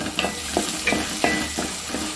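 Chopped onions sautéing in oil with cloves for chicken kulambu, a steady close sizzle broken by spoon scrapes and stirs roughly every third of a second, with no voices.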